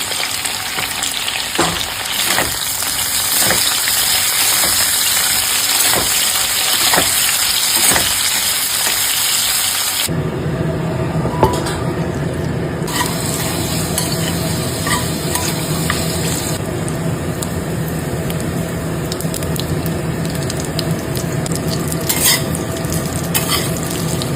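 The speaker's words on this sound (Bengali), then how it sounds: "তাড়াহুড়ো করার জন্য আমি বেগুনটাকেও একসাথে দিয়ে দিচ্ছি, যাতে একসাথে ভাজা হয়ে যায়" Eggplant sizzles in a pan of hot oil alongside hilsa fish, a continuous close frying hiss with intermittent stirring scrapes and clinks throughout.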